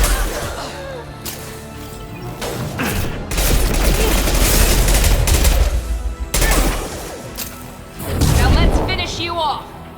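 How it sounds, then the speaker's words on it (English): In Mass Effect 2 combat, a concussive shot lands amid a loud volley of gunfire and booming impacts, arriving in dense bursts with brief lulls and a sharp crash near the end. A voice speaks over the action. "Firing concussive shot."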